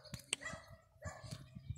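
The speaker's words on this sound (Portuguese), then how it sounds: "Ele tá latindo pra mim porque ele quer carinho" A dog barks and yips at a person in a rural cemetery, several short close barks in an irregular run, mixed with soft whimpers and faint background sounds.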